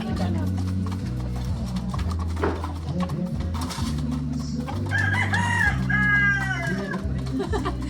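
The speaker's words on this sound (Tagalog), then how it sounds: "Ang manok ni Kuan, ni King." A rooster crows with a rising, strained call near the end, amid clucking chickens and a busy jumble of other low sounds.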